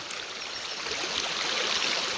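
Rainwater running off fields after heavy rain near Surai village rushes past in a continuous hissing, burbling flow like a stream, steady and fairly close with no voices.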